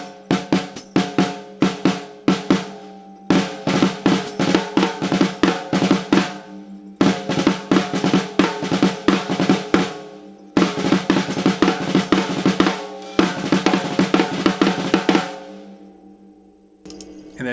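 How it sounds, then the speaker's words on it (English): Drum rudiment with the right hand alternating flam and drag notes against a steady left hand, repeated in dense bursts of close, crisp strokes separated by short gaps across several phrases. "your right hand is alternating between adding a flam note, bra, and adding a drag note"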